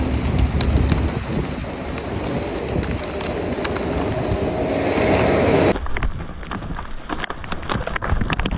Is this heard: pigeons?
yes